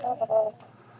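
A late-hatched young chick gives about three quick, soft peeps in the first half second, close by, and then falls quiet.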